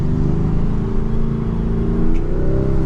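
Lamborghini Urus accelerating with its gear held in Corsa mode, a loud, steady engine drone rising gradually in pitch, close and continuous with no gearshift break.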